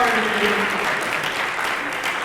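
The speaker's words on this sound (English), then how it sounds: "give yourselves a round of applause" Workshop attendees in a conference session give themselves a round of applause, a dense wash of clapping that stays steady and moderately loud for the short stretch.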